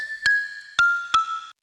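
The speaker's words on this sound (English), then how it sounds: "there's this plucky sound. It's playing the fourth for each note that I've just showed you, but an octave lower." Three bright plucked synth notes sound one after another at an even pace, each with a sharp attack and a short ringing tail, pitched an octave lower than the main melody line.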